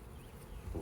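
Honey bees at a swarm trap hive give a brief, close buzzing hum that swells slightly toward the end.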